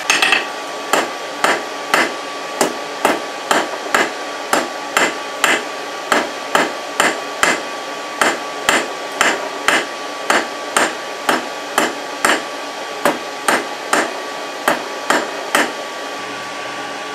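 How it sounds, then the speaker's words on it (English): A hammer strikes hot steel on an anvil while the end of the bar is drawn out to a point, giving steady, evenly spaced ringing blows, loud and close with no talking. "draw the end out, put a point on it"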